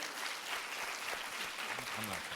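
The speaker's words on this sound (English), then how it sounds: "Give him a round of applause too" A crowd at a live charity pitch event in a concert hall applauds a panelist, steady clapping at moderate distance with a few voices briefly audible underneath.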